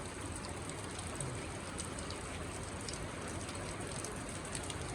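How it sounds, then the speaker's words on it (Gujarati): Heavy sudden rain pours down steadily, a dense even hiss of drops striking surfaces, fairly faint and unbroken with no voices. "આવો વરસાદ આજ આવ્યો જો."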